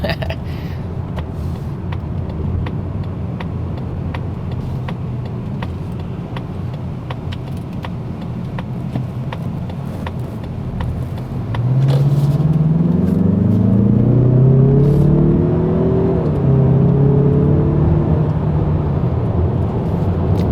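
A 2021 Mazda CX-30 AWD Turbo starts with low, steady cabin road noise, then the engine note rises loud and clear as it accelerates through climbing revs, heard from inside the car.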